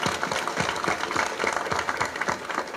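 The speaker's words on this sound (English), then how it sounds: "A good and hearty clap for our Honorable the Attorney General." An audience clapping for the Attorney General at an open day, hearty sustained applause with a rhythmic pulse of beats running through it, loud and close.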